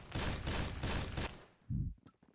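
A rapid burst of Executioner revolver shots rings out in the Phantom Forces video game: five or six loud, evenly spaced bangs, then a deeper thud and a few faint clicks as the firing stops.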